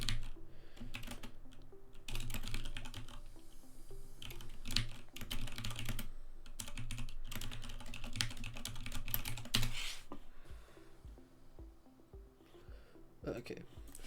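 Rapid typing of C code on a computer keyboard, steady clustered keystrokes close to the microphone, with a speaking voice running under much of it.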